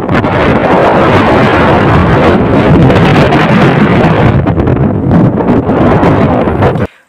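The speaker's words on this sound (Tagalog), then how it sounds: "So mapapakinggan nyo yung hangin." Strong typhoon wind roars and buffets the microphone during a kite flight outdoors, a loud continuous rushing blast that swells and dips before cutting off abruptly at the end.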